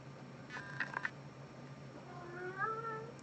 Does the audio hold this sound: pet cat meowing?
yes